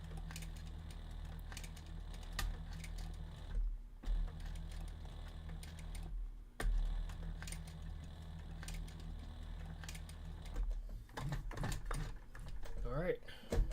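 A machine stitches a leather purse shoulder strap, double stitching it with a steady whirring mechanical drone. The drone stops briefly twice before resuming, and faint clicks follow near the end.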